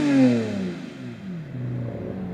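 A Lamborghini Murcielago SV engine revs and then settles into a deep, throaty idle, close and fairly loud, with no talking.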